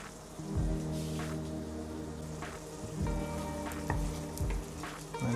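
Pepper chicken chukka cooking in a covered pan: a steady sizzle and bubbling with a low hum underneath and occasional soft lid or utensil knocks, close and continuous.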